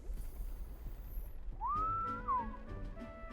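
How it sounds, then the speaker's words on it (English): A single bright whistle blown in the video game Metaphor: ReFantazio, rising and then falling in a smooth sweep over a low ambient hum. "The whistle."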